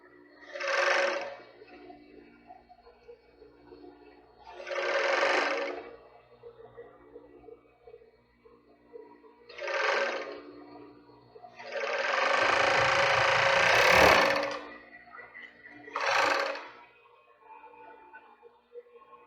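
A sewing machine stitches the side seam of a lace bra in five separate bursts of a few seconds each, the fourth and longest of them heavier, with quiet pauses between.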